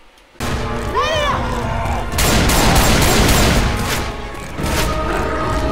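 Gunfire in the game Left 4 Dead 2, loud dense bursts of shooting and rattling blasts, broken by short pauses, with excited voices talking over the noise.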